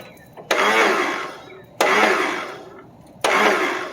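A starter cranks an 11hp Briggs & Stratton engine on a Murray lawn mower in three loud, abrupt bursts, each grinding for about a second before cutting out, without the engine catching.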